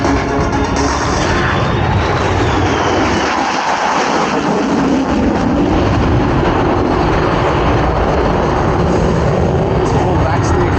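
An RAAF F-35 fighter jet flying an airshow display gives off a continuous loud roaring rumble with a broad, dense noise that surges briefly, while a voice talks faintly underneath.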